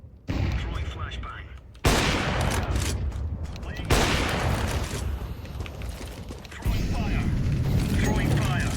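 Gunfire rattles through a shooter video game in dense, continuous bursts, loud and close, broken by abrupt cuts between segments.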